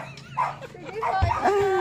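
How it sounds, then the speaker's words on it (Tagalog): Dogs give a few short, close yips and whimpering barks in quick succession, mixed with nearby human voices. "Ay, may mga aso."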